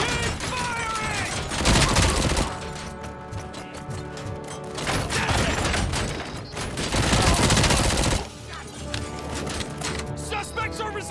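Sustained bursts of game gunfire from Robocop: Rogue City's bank assault swell and fade in waves, loud and dense, with shouted voices mixed in among the shots.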